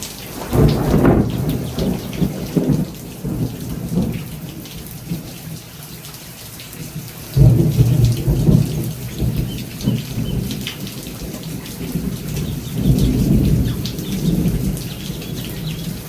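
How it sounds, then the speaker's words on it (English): Heavy rain pours steadily outdoors while rolls of thunder rumble in several swells, the loudest around the middle and near the end, with no voices. "It is pouring outside. I don't know if you guys can hear that."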